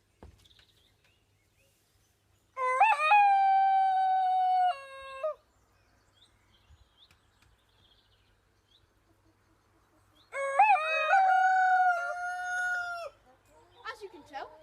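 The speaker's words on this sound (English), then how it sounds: "As you can tell, they've also started to crow." A pet rooster named Hercules crows twice, two long harmonic calls several seconds apart, loud and close, with quiet stretches between them and no talk over the crowing.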